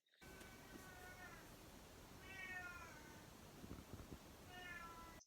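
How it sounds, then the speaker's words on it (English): A house cat meows repeatedly, three drawn-out cries spaced a couple of seconds apart, faint and indoors over a low background hum, with no talking. "just meowing for no reason"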